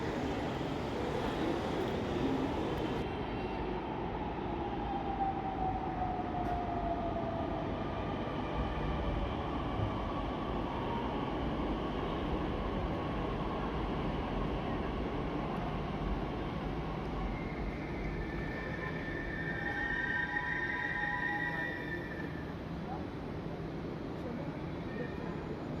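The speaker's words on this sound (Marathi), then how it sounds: "तुम्ही पाहू शकता की आपली मेट्रो आलेली आहे" A Pune metro train pulls into a station with a steady rumbling roar and a rising whine that swells near the end.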